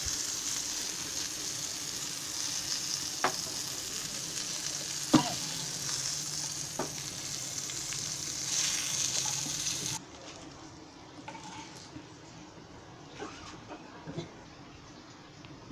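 Pieces of Bombay duck (bombil) crackle in hot oil for a crispy fry, a steady close sizzle broken by a few sharp clatters before the hiss drops away to a quieter tail.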